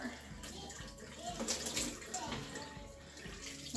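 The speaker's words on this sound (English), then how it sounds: "I'm just gonna rinse off her hair now." Running water from a tap splashes into a basin as soap is rinsed out of a doll's hair, a steady close pour with irregular splashes and faint voices in the background.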